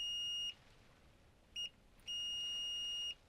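A multimeter beeps three times at a steady high pitch during a continuity test on an LG LN543V TV with no power: a half-second tone, a quick chirp, then a longer one-second beep.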